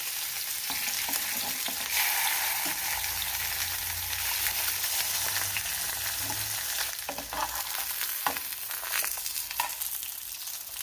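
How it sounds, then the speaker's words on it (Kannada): Fish coated in masala fries in hot oil in a pan, giving a steady, close, dense sizzle that holds for the whole stretch with no talking. "ಮೀನನ್ನು ಸ್ವಲ್ಪ ಫ್ರೈ ಮಾಡಬೇಕು."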